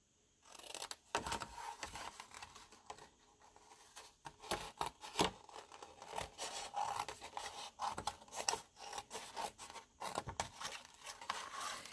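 Paper being cut with scissors while making a folded paper toolbox drink carrier, a close, steady series of crisp snips and rasping scrapes with brief pauses, no talking.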